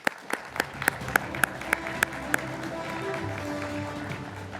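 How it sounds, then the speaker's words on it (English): Audience applause for the host of a space sustainability panel at the International Astronautical Congress, starting with a few distinct sharp claps and building into steady, moderately loud clapping from a conference crowd. "Please give him a clap."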